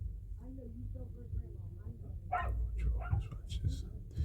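A dog barks and yips faintly in the background near a truck at a workplace, with low rumbling noise and some talk around it.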